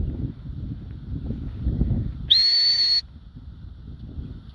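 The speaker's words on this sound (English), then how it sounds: "I'm gonna whistle and she's gonna sit." A single sharp, steady whistle lasting under a second, blown loud and close to call a 13-week-old Labrador pointing puppy, over low rumbling background noise.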